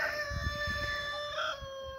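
Chickens cluck and a rooster crows nearby, with steady drawn-out calls over a quiet outdoor background.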